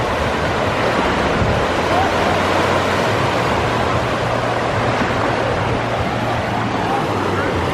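Huge waves in the Typhoon Lagoon water park wave pool crash and rush as a broad, loud, continuous roar of churning water, with wind buffeting the microphone.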